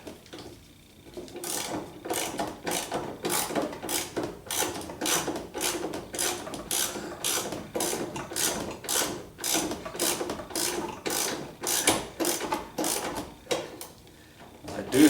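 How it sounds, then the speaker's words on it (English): A ratchet wrench on an extension tightens a steering column bolt during a 1976 Corvette restomod, giving a steady run of rapid clicking bursts at close range, each swing a quick ratcheting rattle, with short pauses between strokes. "Gonna leave my extension on here because I believe it'll give me a better swing with the wrench."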